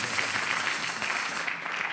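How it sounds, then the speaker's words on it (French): Audience applause for a prophet at a church gathering: a dense, steady patter of clapping from many hands, sustained evenly for the full stretch with no voices standing out. "Put your hand together for him."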